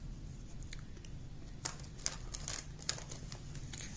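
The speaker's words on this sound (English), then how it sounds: "I'm shuffling here, guys." A deck of oracle cards shuffled by hand close by: quiet, irregular papery flicks and soft crisp snaps over a low room hum, with no talking.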